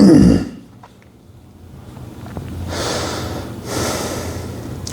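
Deep breathing during a breathwork exercise. A strong exhale opens the passage, followed by a quiet pause and then two slow, close breaths.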